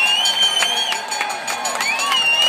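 Crowd at the Marymoor velodrome claps and cheers during the final lap of a Masters points bike race, a steady mid-distance wash of hands and voices with a few sharp whistles cutting through.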